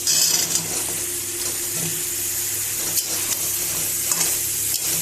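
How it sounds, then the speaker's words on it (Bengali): Pumpkin and spices fry in a pan with prawns nearby, giving a soft continuous sizzle with a few light clicks of stirring, close but moderate in level and no talking over it. "কুমড়োর সঙ্গে সব মশলাটা আমি একসঙ্গে মিশিয়ে একটু ভাজা ভাজা করে তারপরে জল দেবো"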